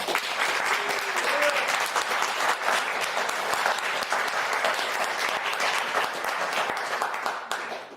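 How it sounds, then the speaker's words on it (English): Sustained audience applause from a crowd at a live talk show, dense steady clapping filling the whole stretch before tapering off at the end. "One more round of applause."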